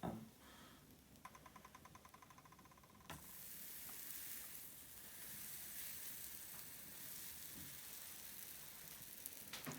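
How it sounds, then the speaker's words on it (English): Steady hissing sizzle of buttered bread frying in a hot pan for a ham and cheese toastie, with a few clicks early on, continuing evenly without voices. "you can hear a sizzle."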